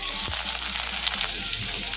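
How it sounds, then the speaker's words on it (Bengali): Chopped ginger and garlic fry in white oil in a wok, giving a close, steady sizzle with light stirring clatter throughout and a low hum underneath. "কয়েক সেকেন্ড সময় নিয়ে নেড়ে ভেজে নেব"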